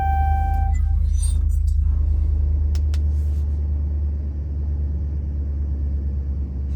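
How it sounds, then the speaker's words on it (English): A 2011-2014 Dodge Challenger starts up, settling into a deep, steady idle rumble that continues close and loud, with a few faint clicks and beeps early on. "press the brake and start your vehicle to get to the next step."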